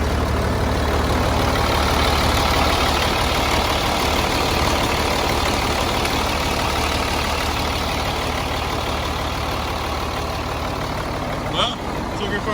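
The engine of an M35A2 deuce and a half military truck runs loud and close, holding a steady rumble throughout.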